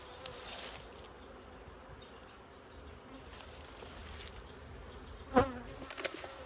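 Bees at an apiary buzz in a faint, steady drone close by, broken by a brief louder knock near the end.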